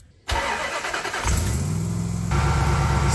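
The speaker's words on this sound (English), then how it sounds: "Let's turn on the engine and see what it subtracts to." Supercharged Jeep Wrangler engine cranks and catches after a brief silence, then settles into a loud, steady idle up close, with a slight step up in pitch partway through.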